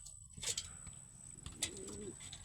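Racing pigeons coo softly in a loft after returning home, a faint low gurgling coo with a few light chirps and rustles in a quiet setting.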